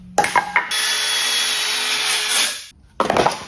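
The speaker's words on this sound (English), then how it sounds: "I'm gonna just take the Sawzall to it" A Sawzall reciprocating saw cuts out a wooden board, with a few short starts and then a loud, steady rasping cut lasting about two seconds, followed by a brief pause and more short bursts.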